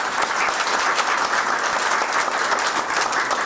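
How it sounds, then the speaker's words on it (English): Sustained applause from an audience at a company town hall meeting, dense and steady clapping filling the room for the whole stretch, loud and close with no talk over it. "Big round of applause."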